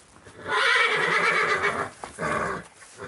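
A horse being shown for sale in Italy gives a loud, close whinny lasting over a second, followed by a shorter second neigh after a brief pause.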